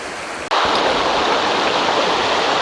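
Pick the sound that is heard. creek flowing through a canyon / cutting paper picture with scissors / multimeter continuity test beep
creek flowing through a canyon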